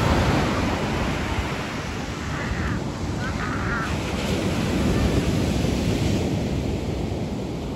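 Surf washes steadily onto a beach at Oxnard, California, a broad continuous roar of breaking waves with some wind buffeting the microphone and no talk.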